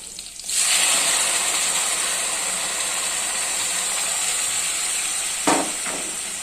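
Tomato paste hisses in a hot frying pan with a steady, loud sizzle, starting abruptly and holding constant, with a small clink near the end.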